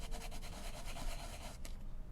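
A small rotary sanding bit rounds off the rough edges of a cork dangle charm, giving a quiet, close, continuous gritty rubbing with a brief pause near the end.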